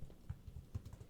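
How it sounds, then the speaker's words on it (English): Soft, irregular keystrokes tap on a computer keyboard while code is being typed, quiet and close with uneven rhythm and no talking. "So let me just type the code out and then I'll explain what it's going to do."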